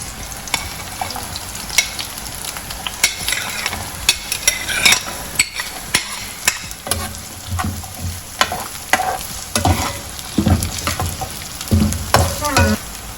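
Fresh peppers and carrots stir-frying for vegetable fried noodles hiss loudly in a hot pan, broken by frequent scraping and clacking stirs, close and busy, with no talking.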